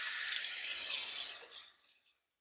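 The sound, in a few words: tap water running while rinsing a slow juicer chute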